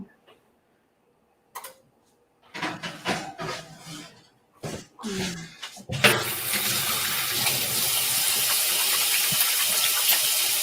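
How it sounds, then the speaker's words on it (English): A kitchen tap opens to a steady, loud rush of running water for hand washing, following a few brief clinks and handling noises. "give me a sec so I can wash my hands as well"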